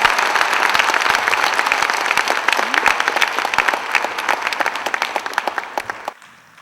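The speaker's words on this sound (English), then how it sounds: "So let's give him another round of applause." Audience applause at a Tamil Canadian community event, a dense crowd clapping steadily for about six seconds before it thins to scattered claps and stops abruptly.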